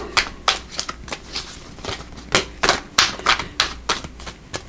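Tarot cards being shuffled during a reading, a quick run of crisp riffling slaps and flicks in uneven bursts, close and fairly loud, with no talking.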